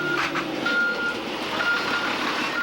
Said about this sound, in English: Look up, tow truck on the corner now. Backing straight up.